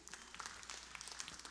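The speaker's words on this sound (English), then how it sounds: "Clap your hands as you're seated." Congregation clapping hands during a church worship service, a faint, steady patter of claps spread through the room with no voices over it.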